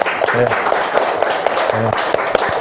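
A church congregation claps steadily for a young soldier home on leave. The applause is loud and continuous with a few distinct sharp claps, and low voices and a short murmur sound beneath it.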